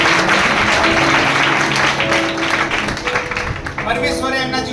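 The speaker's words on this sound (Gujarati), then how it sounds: "જોરદાર તાળી પાડી દેવાની." A church congregation claps loudly during a revival service, the dense clapping running under a voice that keeps talking over it, with some music tones holding steady toward the end.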